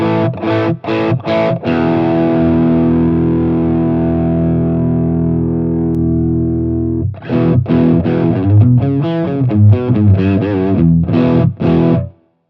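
Electric guitar through a Tube Screamer overdrive pedal: a few choppy distorted stabs, then a long sustained overdriven chord ringing out, followed by a busier run of loud gritty picked notes, with no voices.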